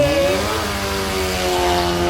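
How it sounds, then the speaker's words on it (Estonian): Rally car number 6 at a scrapyard-car rally, its muffler blown through, roars loudly and continuously with a rough, harsh engine note and no voices over it. "summuti on läbi, sest väga hirmsat häält teeb auto number 6"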